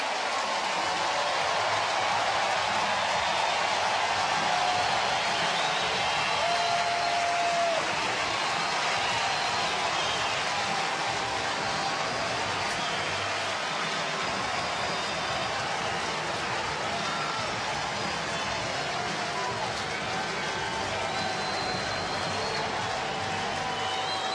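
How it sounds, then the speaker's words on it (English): A large baseball stadium crowd in Cincinnati applauds and cheers in a steady, dense wash of sound that holds evenly for the whole stretch, distant and continuous. "Listen to the applause."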